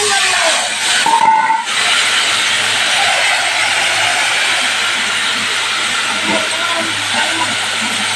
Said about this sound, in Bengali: পটলগুলো এই যে ভাজা ভাজা হয়ে গেছে